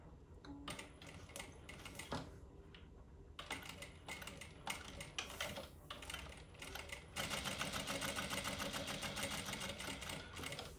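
A JACK A2-C industrial sewing machine stitching a line at its slowest speed, about 100 stitches a minute, giving a soft stop-start clatter that settles into a steadier, slightly louder run toward the end.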